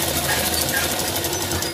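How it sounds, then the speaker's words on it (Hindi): A sewing machine stitches the seams of a blouse, running as a steady, close, continuous mechanical whir with no pauses and no voices for the whole stretch. "अब इसको हम इससे मिलाते हुए सिलाई लगाएंगे"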